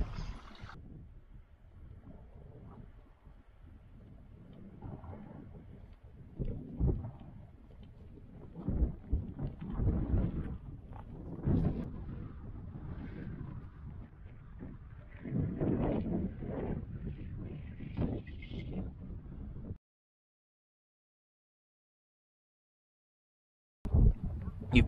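Steady wind rushes and buffets the microphone outdoors on Seathwaite Fell under grey skies, gusting stronger at times, then drops to silence before a brief final burst.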